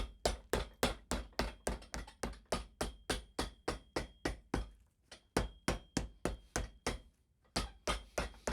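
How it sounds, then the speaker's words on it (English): A hammer pounds down the welt on a Red Wing Iron Ranger boot in a steady run of sharp, evenly spaced close taps, pausing twice before resuming the same rhythm. "Hammer down the middle, and then work your way out on each side."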